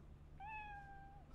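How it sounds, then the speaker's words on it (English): A single short cat meow from the video game Cyberpunk 2077 rises and then trails off over a low steady hum, quiet and fairly close, with no talking. "Oh my gosh, is there a cat?"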